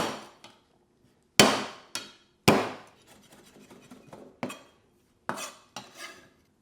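Lemongrass and ginger are bashed for a paste for Vietnamese beef stew, with sharp, separate knocks of about eight hard strikes, loud and close, with short pauses and light clatter between blows.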